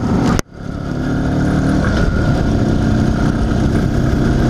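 IZh Planeta 5 motorcycle engine running after a crankshaft seal replacement: a short sharp noise, then a steady, even engine drone that holds for several seconds, fairly close and with no talking.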